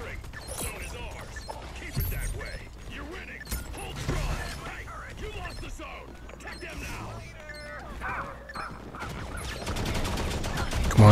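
Gunfire in the mobile shooter Modern Combat Versus crackles steadily through the match, mixed with clanks and impacts while a player talks over it.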